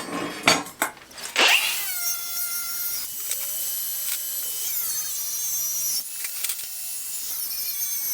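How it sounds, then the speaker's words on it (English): Metal pieces are cut to size for homemade anchors with a power tool, a bright high-pitched screeching cut, close and loud, after a few sharp knocks and clanks at the start, with no talking. "So I'm going to cut these to size now."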